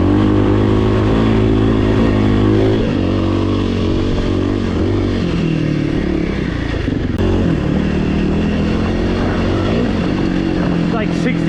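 A 2024 Kawasaki KLX300R dirt bike ridden on forest singletrack, its single-cylinder engine droning loud and close with shifting revs as the throttle rises and falls, under a rider's occasional voice.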